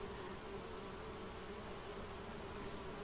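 A dense, steady buzz from a swarm of bees around a beehive in the adventure game Geheimakte 2, continuous and unbroken throughout, with no voices.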